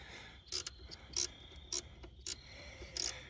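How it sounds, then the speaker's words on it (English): Ratchet tightening a nut on a cable during alternator work on a 2016 Hyundai Accent, heard as six short, faint bursts of rapid clicking over a low background hum, with no talking. "I'm just tightening up the nut on the cable"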